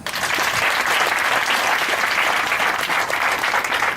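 Church congregation applauding steadily and loudly for about four seconds, a dense, continuous wash of clapping with no pauses.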